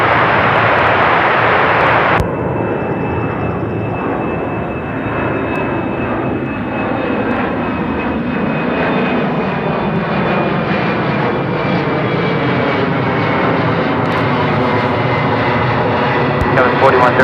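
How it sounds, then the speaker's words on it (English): An Alaska Airlines jet takes off from runway 34 Right at Seattle-Tacoma International Airport, a loud sustained engine roar with a rising whine, heard steadily throughout from fairly close. "Alaska 703, running 34 right, clear for takeoff."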